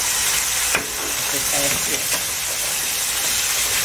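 Food frying in a pan over a stove flame while a Minas Gerais-style lunch is cooked. A steady, close sizzling hiss runs throughout, and a person speaks briefly over it.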